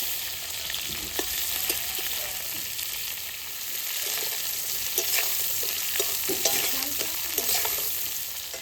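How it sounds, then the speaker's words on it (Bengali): Steady crackling sizzle of fish frying in hot oil, with occasional sharper pops and spatters throughout, close and fairly loud. "মাছটা কিন্তু ভাজা হয়ে গেছে হালকা হালকা ভাজা"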